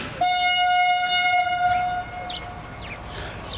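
A train horn sounds one long steady blast at a level crossing, fairly close and loud, then fades into rumbling rail noise.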